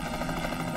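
A rescue helicopter flies close by with a loud, steady rotor thrum and engine whine that fill the brief moment.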